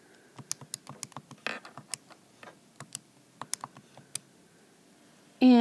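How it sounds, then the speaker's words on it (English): Keys clacking on a computer keyboard during an algebra calculation, a steady run of close, crisp taps with short pauses, ending in a brief louder burst. "pardon me a minute while I type this in"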